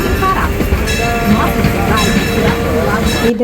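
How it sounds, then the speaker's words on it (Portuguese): Amusement park train ride at Beto Carrero park, a steady loud rumble of rolling rail cars with rhythmic clatter and faint wheel squeal throughout, close up, with voices mixed into the noise. "E depois desse passeio de trem delicioso"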